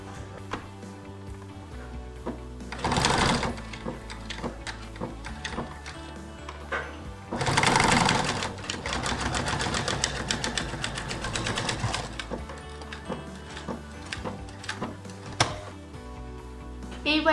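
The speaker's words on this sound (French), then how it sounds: "je vais le faire à la machine à coudre." A sewing machine stitches a fabric scrunchie made from scrap cloth, its motor whirring in two louder bursts around a steady mechanical rattle, close and clear with no talking.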